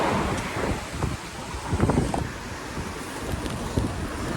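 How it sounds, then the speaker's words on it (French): Strong gusty wind buffeting the microphone outdoors in Cannes, a loud, rumbling roar with uneven bursts and no voices. "Non mais le vent c'est une dinguerie, j'ai jamais vu autant de vent genre."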